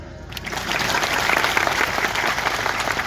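Loud, sustained applause from a kirtan audience, swelling in after a brief moment and continuing steadily to the end.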